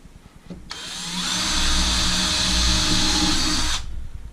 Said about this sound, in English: I'm pre-drilling a smaller hole so it doesn't split it out.